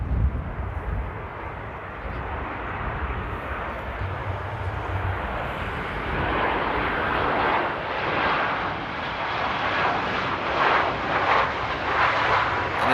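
An airplane comes in to land at Amsterdam Airport in stormy weather, its engine roar growing steadily louder and nearer over a broad wind-blown rumble, with no talk.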